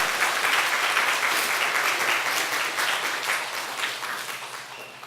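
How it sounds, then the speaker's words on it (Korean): Church congregation applauding during a Korean Sunday worship service, a full, steady round of clapping that carries on for several seconds and gradually softens toward the end. "박수로 하나님 앞에 영광 드시기 바랍니다."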